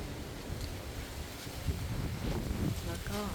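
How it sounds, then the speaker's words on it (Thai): Wind blows outdoors beside a beachfront pool villa, a steady broad whoosh with shifting gusts, while someone talks faintly over it. "ลมดีมากวันนี้"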